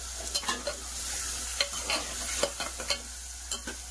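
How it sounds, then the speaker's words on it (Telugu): Prawn curry stirred in a sizzling pan, quick close scraping strokes of a spoon in an irregular rhythm over a constant frying hiss, with no talk. "బాగా కలపండి."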